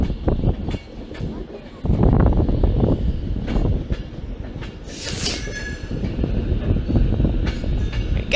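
British Rail Class 319 unit 319 154 "Matthew Flinders" at Manchester Piccadilly, with rolling wheel rumble, rhythmic rail clicks and a bright wheel squeal midway, moving close by at moderate to loud level.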